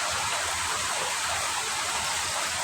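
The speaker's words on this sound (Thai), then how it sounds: "ฝนตกเฉยเลยนะครับ" Rain falls on melon seedlings as a steady, dense hiss. The sound is even and unbroken throughout, with no voices.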